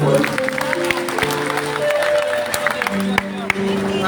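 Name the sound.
audience clapping and cheering at farmers' protest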